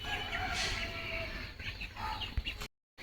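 Faint, soft clucking from chickens close by, scattered short calls over a quiet outdoor background, ending in a brief silence.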